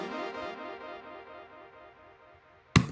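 A soft synth phrase with vinyl, stutter and delay effects: repeating stuttered, echoing notes that fade gradually, ending in a sudden crackly burst.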